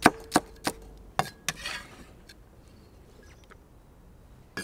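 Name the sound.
slicing carrot and celery with a knife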